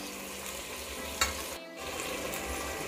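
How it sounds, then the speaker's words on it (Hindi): Tomatoes, vegetables, corn and dry fruits such as almonds, raisins and cashews sizzle and fry steadily in a pressure cooker, with a brief stir partway through. "सभी चीजों को मैं थोड़ी देर भून लूंगी"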